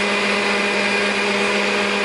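An electric mixer whips cream into butter, running as a loud, steady, continuous motor whir with a high whine and no pauses.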